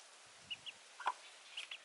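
Soft, scattered clucks from chickens near a house in rural Thailand, a few short calls spaced irregularly over quiet background noise.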